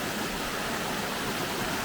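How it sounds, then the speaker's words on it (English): Waterfall rushing in a rocky natural setting, a dense continuous roar of falling water, steady and fairly loud with no breaks and no voices. "There's another waterfall right there."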